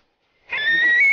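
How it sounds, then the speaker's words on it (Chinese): Recorded eagle call played through a loudspeaker in a hay barn, a sustained shrill whistling cry that starts abruptly about halfway through and holds steady and loud to the end. "老鹰叫声啊！"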